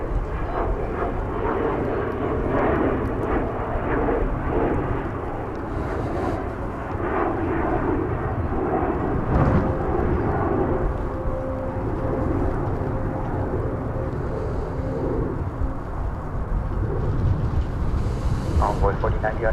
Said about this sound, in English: American 1670, 737-800 about to take off for Albuquerque